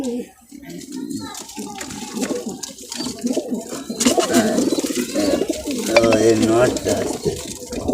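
Pigeons coo softly and repeatedly amid people talking nearby, with some fluttering and background chatter.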